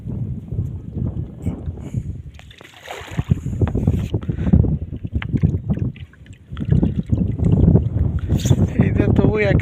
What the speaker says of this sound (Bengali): এক হাত দিয়ে নৌকা চালিয়ে আপনাদের দেখানোর চেষ্টা করছে।